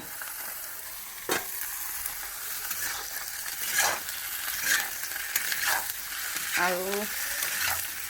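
Meat sizzles and crackles in a hot pan, a continuous close hiss with occasional sharper pops and stirring scrapes, and a brief voice speaks near the end.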